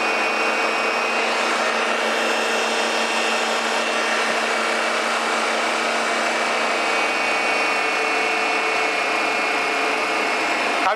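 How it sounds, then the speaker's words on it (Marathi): A dough kneading machine churns wheat flour with water and a little oil into a single dough ball, giving a steady, loud motor whir with grinding texture that runs continuously without a break. "याच्यामध्ये पूर्ण कणिक कुटून होते आणि नंतर असा पूर्ण गोळा मिळून जातो."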